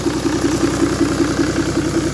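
A Toyota Land Cruiser HDFTE diesel engine, freshly overhauled, idles steadily nearby with an even, rapid pulsing rhythm and no voices.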